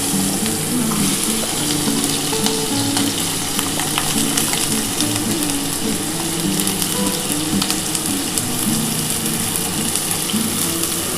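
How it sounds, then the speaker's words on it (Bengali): Potatoes and yardlong beans fry in hot oil, giving a steady, dense sizzle and crackle that holds loud and close for the whole stretch. "আমার তেলটা গরম হয়ে গেছে, আমি কিন্তু আলু আর বরবটিটা দিয়ে দিচ্ছি"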